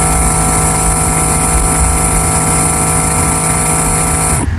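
A rechargeable scent diffuser runs with a loud, steady mechanical drone and a fixed hum, continuing unchanged for several seconds before it cuts out abruptly at the end.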